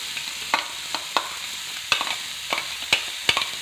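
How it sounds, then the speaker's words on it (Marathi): A spatula scrapes and clacks in a pan on a griddle while ground green chili paste for Satara-style thecha is stir-fried, sharp irregular strokes over a soft steady sizzle, with no talking. "हे असं मिक्स करून चांगलं परतायचं तव्यावर."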